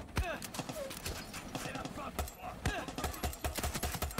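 Horse hooves clip-clop in the video game Far Cry 6, a quick, uneven run of hoofbeats mixed with in-game sounds, with someone talking over them.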